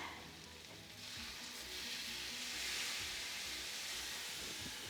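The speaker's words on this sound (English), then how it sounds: "we're going to deglaze with some red wine" Sausage ragu with fennel and red pepper sizzling and hissing steadily in a hot pan as red wine is poured in to deglaze, the fizzing swelling and staying loud and close throughout.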